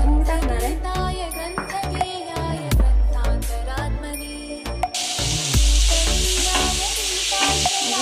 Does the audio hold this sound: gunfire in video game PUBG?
no